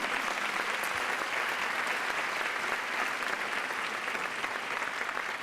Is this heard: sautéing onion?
no